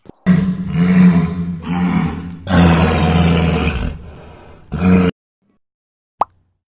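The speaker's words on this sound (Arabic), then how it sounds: "أسد البحر." A sea lion gives a series of loud, deep, guttural roars in four long bursts, close and alone, followed by silence and a single faint click.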